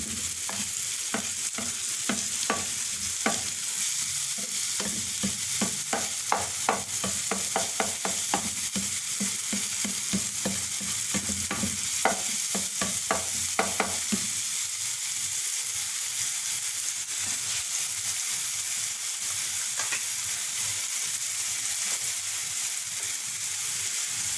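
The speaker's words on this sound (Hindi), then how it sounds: "इसको भी थोड़ी देर इसमें सौते करेंगे कि टमाटर जो वो नरम पड़ जाए" Tomatoes sizzle steadily as they sauté in a hot pan while a utensil scrapes and stirs in quick irregular clusters, close and fairly loud, with no talking.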